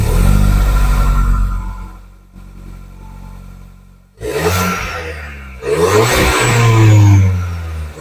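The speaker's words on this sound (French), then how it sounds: "Je viens d'accélérer très fort, c'était pas voulu." An Audi A3 40 TFSI accelerates hard, its engine rising in a loud rev that drops off and then returns in a second strong, climbing pull, with no speech.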